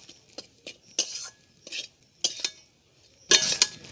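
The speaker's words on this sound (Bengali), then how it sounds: "এবার আমি সমস্ত মশলা ভালো করে মিশিয়ে নেব।" A spoon stirs coriander and black pepper powder into a prawn cutlet filling, giving about seven separate scraping, clinking strokes against the cookware with short quiet gaps between them.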